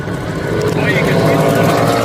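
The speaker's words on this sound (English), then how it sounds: "the Pro Fuel Nitro bikes" Pro Fuel nitro drag racing motorcycles at a drag strip produce a loud, sustained engine roar that fills the whole moment without letup, heard from nearby.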